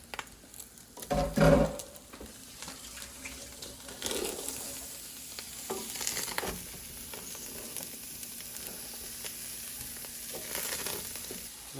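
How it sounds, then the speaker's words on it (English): Trinity vegetables, onions among them, sauté in a single pot for dirty rice, giving a steady close sizzle with occasional stirring scrapes and clinks. "Now is a good time to add our trinity. And we'll saute that until the onions start to turn translucent."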